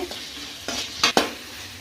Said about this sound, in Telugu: మసాలా కూడా బాగా ఆయిల్లోనే బాగా ఫ్రై అవ్వాలండి